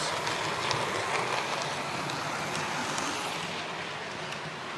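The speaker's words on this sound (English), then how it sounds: "Mark, are the trains loud over the ballast sections?" Model railway train running steadily over track during a livestream, a continuous near rumble with faint rhythmic clicks and no pause, loud throughout.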